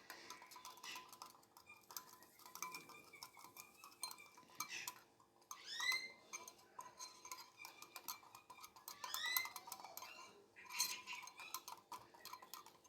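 A spoon beating semolina together with egg in a bowl, quiet continuous scraping and light clinks against the bowl's sides, a steady irregular rhythm close by with a few brighter metallic taps.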